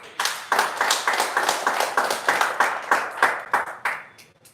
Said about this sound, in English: First clap hands for your souls.